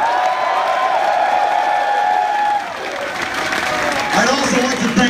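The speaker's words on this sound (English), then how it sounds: "so give them a big round of applause." A large concert crowd at a show applauds and cheers, a loud, dense wash of clapping and whoops, with a shouting voice over it and rising cheers near the end.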